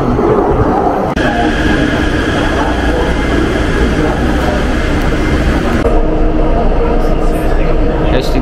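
Steady, loud rumble of a metro train in Taipei heard from inside the car, with continuous wheel and motor noise and a slight change in tone partway through.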